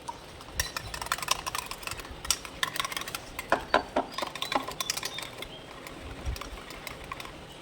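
Gram flour batter for coating potato chops is beaten in a bowl, giving quick, irregular clicking and tapping strokes of utensil against the dish, close and moderately loud with no talk.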